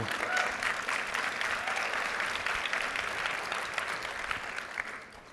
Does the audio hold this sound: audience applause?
yes